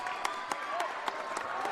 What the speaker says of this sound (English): And Michael Russian also gets a round of applause.